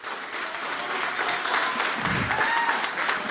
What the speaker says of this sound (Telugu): ఏదో ఒక మూల నుంచి చప్పట్లు కొడుతున్నాడు, నా కోసం వచ్చాడు